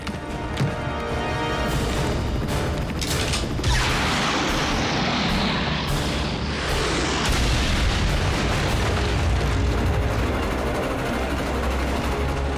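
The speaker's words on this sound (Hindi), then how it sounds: "ट्रेन ट्रैक्स उड़ा दिए" Cartoon explosions blow up train tracks in a loud, continuous roar of booms and rumbling blasts with crackling debris, sustained close and heavy throughout.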